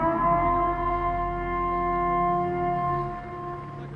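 A steady, sustained siren drones throughout at a protest in Compton, Los Angeles, its tone holding fairly even and loud with no talking over it.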